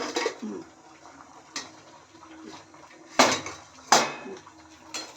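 A cooking pot being covered with its lid while butter paneer simmers, giving a few short, sharp metallic clinks and knocks spread over several seconds against a quiet kitchen background.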